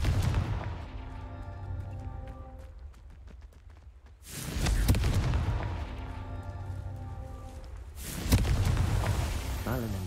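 A Confringo blasting spell in Hogwarts Legacy explodes twice, with two sharp, loud booms a few seconds apart over a steady bed of game music.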